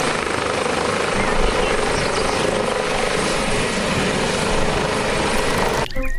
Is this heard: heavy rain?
no